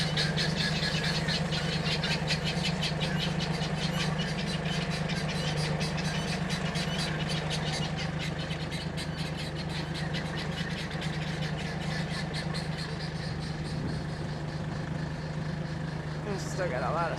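A tractor engine idles steadily with a low, throbbing hum and a fast mechanical patter, heard close and continuous throughout, while voices talk at times underneath.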